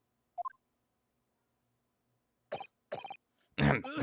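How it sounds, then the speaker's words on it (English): A character in the video game The Great Ace Attorney Chronicles coughs: a small squeaky sound first, then a pause and a run of harsh, hacking coughs that grow heavier and louder toward the end. "this is the hardest he's coughed"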